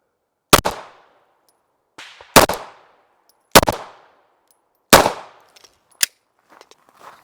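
Glock 47 pistol with an aftermarket trigger firing four loud, sharp shots about a second and a half apart, each with a short ringing echo tail, followed by a smaller metallic click and faint rustling.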